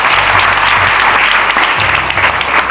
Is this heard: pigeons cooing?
no